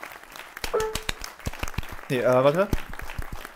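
Applause in the video game Youtubers Life: a short run of sharp, spaced claps plays under someone talking.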